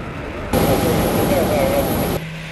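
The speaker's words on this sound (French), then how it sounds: "La nuit tombée, l'avion présidentiel se pose sur le tarmac" Presidential airplane landing on the tarmac at nightfall, a broad roaring rush that starts abruptly and holds steady for under two seconds before cutting off, loud and close.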